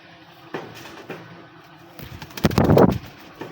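Local desi pigeons make soft coos and a brief flurry of fluttering, close by and growing louder toward the end.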